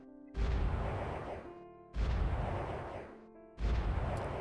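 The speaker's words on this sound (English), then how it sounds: "just missile the crap out of London" Missile strikes on London in the strategy game World Conqueror 4, three heavy booming blasts about a second and a half apart, each a sudden loud crack trailing into a rumbling decay, with no talk.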